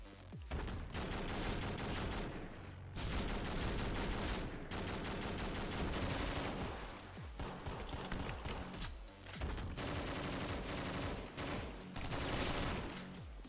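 Bursts of rapid gunfire crackle in the OTXO video game, arriving in loud clusters separated by brief gaps, with a dense, punchy texture throughout.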